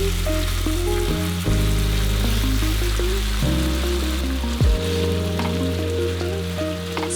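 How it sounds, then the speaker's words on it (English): Marinated chicken sears in a hot pan for a chicken stir fry, a loud unbroken sizzle and crackle heard up close, with a low hum and a brief bump partway through, no talk. "Spread it out evenly and let it sear without stirring so it develops a nice golden color"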